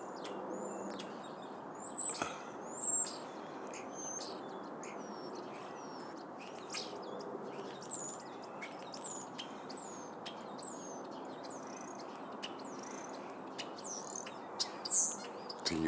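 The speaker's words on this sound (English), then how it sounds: "Can you identify this bird?" Wild bird calling in Michigan on a snowy winter morning, a series of short high chirps and tweets repeating steadily over a soft background hush, a few louder calls standing out near the start and end.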